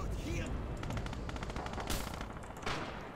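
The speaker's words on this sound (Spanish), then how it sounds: "Estos son tiros que vienen a por mí" Rapid bursts of rifle and machine-gun fire crackle in Red Orchestra 2, a dense, overlapping fusillade of sharp cracks at middle distance with a few louder shots standing out.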